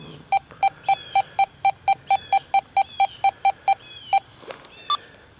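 Deus 2 metal detector sounding over a buried half dime: a rapid, evenly spaced run of about fourteen identical high beeps, then two slower isolated tones, loud and close against faint outdoor background.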